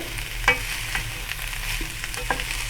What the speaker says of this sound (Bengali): এখন এটাকে একটু নেড়ে চেড়ে মিশিয়ে নিতে হবে ডালটার সঙ্গে